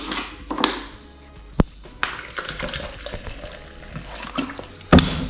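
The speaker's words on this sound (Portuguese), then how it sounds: "Aí eu coloco água." Water poured from a tap or bottle into a shaker already holding a dose of whey protein, a wet splashing and trickling with a few sharper knocks and clinks, close by, with no one talking.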